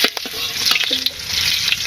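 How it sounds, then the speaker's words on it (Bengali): A farm egg fries in a pan in a village kitchen, giving a loud, close crackling sizzle broken by scraping stirs and small pops. "ডিম ভাজি হয়ে গেছে"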